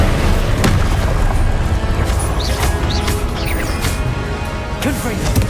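Incendio fire spell in the Hogwarts Legacy video game, cast amid combat: loud, sustained booming crashes and bursts with a few sharp hits, close and continuous, overlapping with game effects and a voice.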